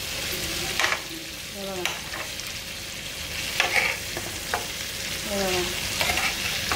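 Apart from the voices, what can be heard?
green tandoori chicken frying and being flipped in pan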